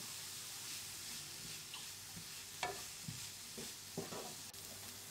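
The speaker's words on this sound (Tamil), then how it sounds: "இப்போது நம்ம ப்ரெட்டுக்கு தேவையான உப்பு ஆட் பண்ணிவிட்டு நல்லா மிக்ஸ் பண்ணிடுங்க" Vegetable masala with salt is mixed in a pan for masala bread, a faint low sizzle broken by a few soft spatula scrapes and taps, quiet and close.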